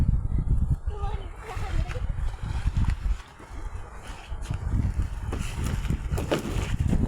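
Water sloshes and splashes in a river as people bathe nearby, mixed with wind noise and people talking close by.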